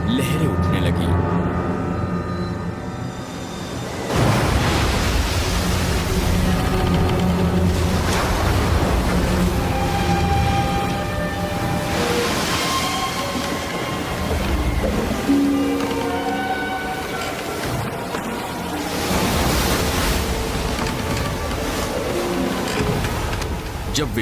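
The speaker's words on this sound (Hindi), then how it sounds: "आंधी के कारण झील में लहरें उठने लगी।" Storm-whipped waves surge on a lake in a film scene, a continuous loud roar of surf and wind with swelling crashes, while a narrator speaks over it.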